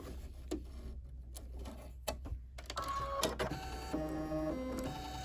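A home embroidery machine stitches around a St. Patrick's Day coaster with rapid mechanical ticking and whirring, faint at first and then steadier and louder, with no talking.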